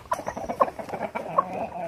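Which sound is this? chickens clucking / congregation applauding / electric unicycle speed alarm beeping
chickens clucking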